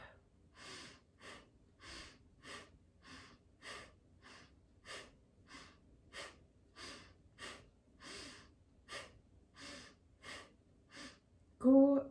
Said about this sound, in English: So we're working with the breath of fire.